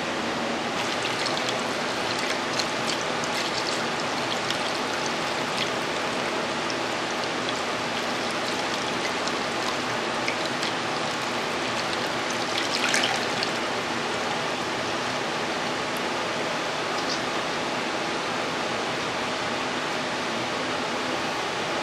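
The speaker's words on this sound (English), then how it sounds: "So I'm going to get that poured into my carboy" Homebrewed beer wort pours steadily into a fermenting carboy, a continuous splashing, rushing stream of liquid held at an even level from start to finish, close and fairly loud with no talking.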